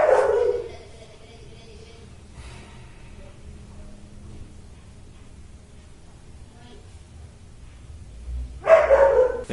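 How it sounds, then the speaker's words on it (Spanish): A dog barks in short bursts at the start and again near the end, loud and close, with a quiet stretch of low room noise between the outbursts. "el perro pues ladra cuando extraña a su dueño"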